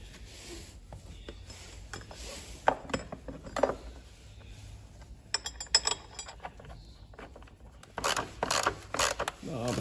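Battery cover blanket being fitted into a VW Golf MK7 2.0 TDI engine bay with a screwdriver: scattered scraping, rubbing and light metallic clinks, quiet and intermittent, with a busier burst of scraping near the end.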